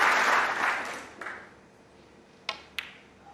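Audience applause at a snooker final between Ronnie O'Sullivan and Judd Trump, a burst of clapping that fades over about a second and a half, followed by a few isolated sharp claps.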